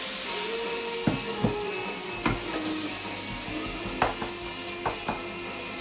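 King oyster mushrooms fry in a hot pan with a constant close sizzle and hiss, broken by sharp clicks and scrapes of stirring at irregular moments.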